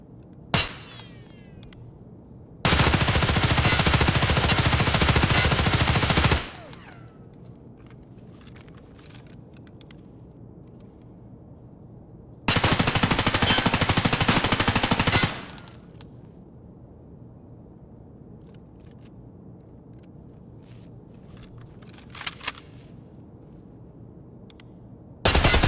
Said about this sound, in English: we'll start with the HK, as this has the lowest of the recoils and that fastest firing rate